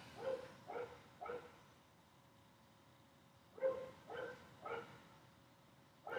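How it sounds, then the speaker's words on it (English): Two clusters of three or four sharp barks from a dog, a little distant, broken by a few seconds of near silence over a faint steady hum, with no speech. "The dog doesn't stop barking."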